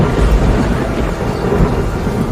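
Heavy rain pours steadily through a stormy, dark night while deep thunder rumbles continuously underneath, a dense, loud wash of storm noise with no voices.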